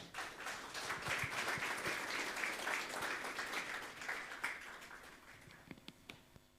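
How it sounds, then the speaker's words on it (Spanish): A church congregation applauds as Pastor Daniel Toro is welcomed, dense clapping that swells, then thins to scattered claps toward the end, heard at a modest distance. "vamos a recibir, por favor, con fuertes aplausos, pastor Daniel Toro"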